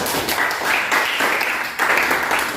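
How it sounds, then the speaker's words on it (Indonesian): Classroom applause for a student group after their presentation: a fairly loud, continuous patter of clapping hands, with light voices faintly mixed in. "beri tepuk tangan untuk kelompok 1"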